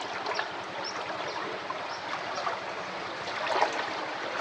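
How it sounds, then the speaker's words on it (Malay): Someone wades through village floodwater, making a continuous soft swishing and sloshing, close by, with small splashes and no talking. "Ikut saya meredah banjir."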